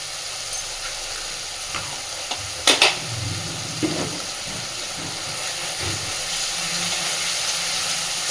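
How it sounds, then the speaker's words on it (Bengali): Cooked-down masala frying in oil that has begun to separate, with garam masala powder added, gives a hissing sizzle with occasional sharp spatula knocks and scrapes, close by and without speech. "মশলাটা কিন্তু কষে মশলা দিয়ে তেল ছাড়তে শুরু করেছে"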